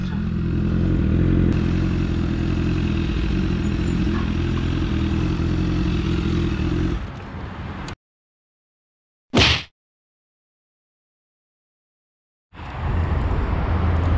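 A BMW S1000RR motorcycle circles a petrol station, its engine a steady, loud, wind-buffeted roar for about seven seconds. Near silence follows, broken by one short burst, and then the roar returns.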